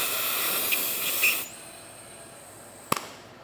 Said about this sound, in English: You want to try to put air in the tires?